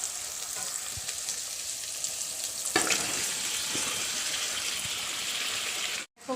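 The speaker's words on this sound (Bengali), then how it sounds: "পেঁয়াজ আর মশলাটা ভাজা ভাজা হয়ে গেছে, এবার আমি চিকেনটাকে দিয়ে দেবো।" Chicken dropped into a pan of onions fried in oil with cinnamon, green and black cardamom and bay leaf: a steady loud sizzle throughout, a brief flare as pieces hit the oil, then a sudden cut near the end.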